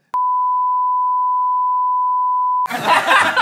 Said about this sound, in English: anytime anyone says your word, I'm gonna bleep it out